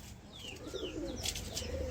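Andhra pigeons, tail-locked flying birds, coo in soft repeated rolling calls with a few higher chirps scattered over a low steady background murmur.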